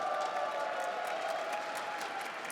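A large crowd applauds steadily in the Spodek arena during the IEM Katowice 2022 CS:GO esports tournament, a continuous wash of clapping and murmur heard from a distance with a faint tonal hum beneath.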